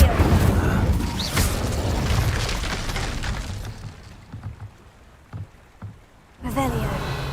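An Incendio fire spell in the Hogwarts Legacy game erupts as a loud, close booming blast with crackling, rain-like hiss that fades into a few scattered thumps before a fresh burst near the end.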